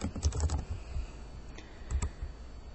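Typing on a computer keyboard, a close run of quick, light key clicks in short bursts separated by brief pauses, with no talking.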